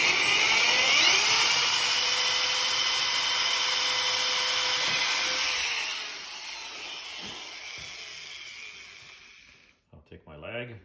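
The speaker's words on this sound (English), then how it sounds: "I have the drill set up with a 17/64 drill." A power drill with a 17/64-inch bit whines loudly at high speed, then winds down and stops, leaving a few faint knocks and handling sounds at the end.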